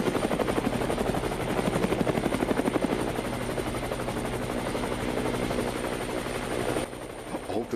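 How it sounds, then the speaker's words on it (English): A news helicopter passes overhead, its steady rotor thumping loud and continuous for several seconds, easing off slightly near the end. "It looks like a news chopper"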